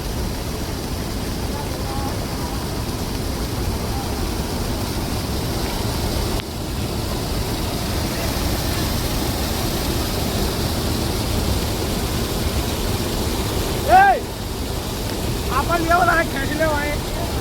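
A first-rain flood on the river at Orpa village in Narmada district sweeps a motorbike away, with a loud, steady roar of rushing water throughout and brief voices near the end.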